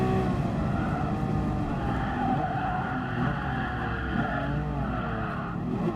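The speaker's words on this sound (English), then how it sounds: "let's just see how good this car is, because I've heard that it's one of the greatest Lamborghinis that have ever been produced" Lamborghini engine in Gran Turismo Sport roars loud and steady, its pitch rising and falling with gear changes and tyre noise, with no talking.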